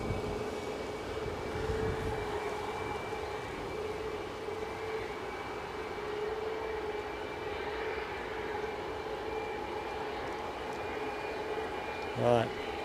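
An ATR turboprop at Edinburgh airport hums as a moderate, steady drone with a sustained propeller tone, continuing under people chatting and a short louder blip near the end.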